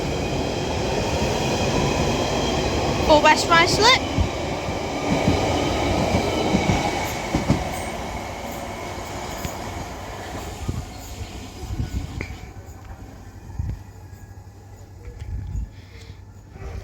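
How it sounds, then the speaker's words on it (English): A London Underground Central Line 1992 stock tube train pulls out of South Ruislip, starting with a brief metallic squeal and rumbling steadily as it recedes and fades into the distance. A platform announcement is heard briefly near the start. "Now departing is going to be our final train of today, which will be a London Underground Central Line 1992 stop"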